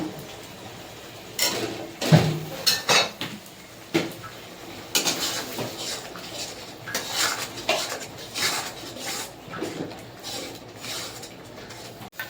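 Poppy seed paste is stir-fried in a pan, with repeated metal scrapes and clanks of a spoon against the pan in uneven bursts over a low background hiss.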